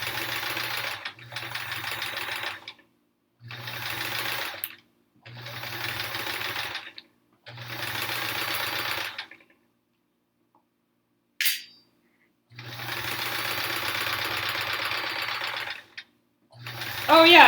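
Sewing machine stitching quilt rows runs in repeated bursts of steady, fast needle whirring, several seconds each, with short pauses between, loud and close.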